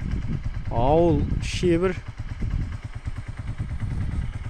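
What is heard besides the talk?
150cc Zilük motorcycle engine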